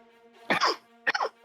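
Three close, sharp coughs in a row, the first two fuller and the last a brief short hack, heard alone with a steady low hum underneath.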